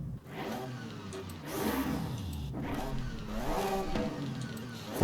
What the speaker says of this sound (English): I'm guessing that's a Subaru engine, right?